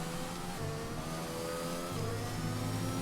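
A Formula 1 car engine from the F1 2021 video game on the final lap of a wet Brazilian Grand Prix, a steady high-pitched whine with shifting harmonic tones as it holds speed, loud and continuous with no talk.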